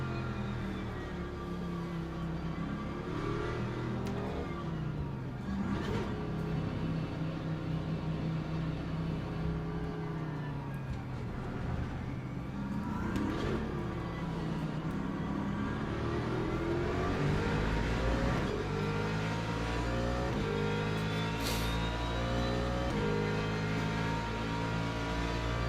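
A race car engine in the Le Mans Ultimate sim at Spa drones steadily, rising and falling in pitch through gear changes and revs, loud and unbroken with no voices.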